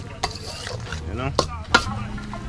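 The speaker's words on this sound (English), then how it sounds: "So I stir my meat a little bit" Curry goat meat is stirred in a pot, with a few distinct metallic scrapes and clinks of the spoon over a low, steady cooking background.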